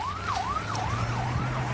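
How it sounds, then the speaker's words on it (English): Sirens from an Israeli special forces convoy driving past in southern Israel, a wailing tone sweeping up and down repeatedly over steady low road rumble, fairly close and continuous. "A convoy of Israeli special forces just drove past, sirens on, heading south."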